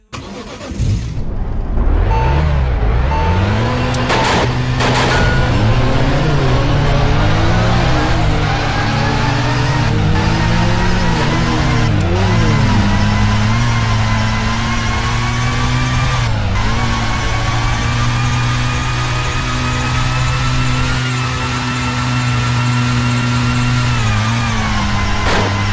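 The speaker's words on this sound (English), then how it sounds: "we got the M3 GTR sound." BMW M3 GTR race car engine from Need for Speed: Heat, starting up and then holding a loud, steady rumble with rising and falling revs over about 25 seconds, no talk.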